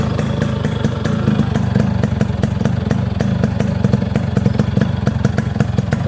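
A Yamaha RX 100 motorcycle with a freshly overhauled engine runs steadily at idle, a close, loud two-stroke putter with fast rhythmic pulses and light mechanical clatter throughout, with no talk.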